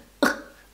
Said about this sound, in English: like trying to like stifle my cough